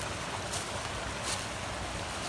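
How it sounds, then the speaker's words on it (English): A waterfall rushes down a ravine as a steady, broad, hissing roar of falling water, constant and fairly faint with no breaks. "Very, very beautiful waterfall."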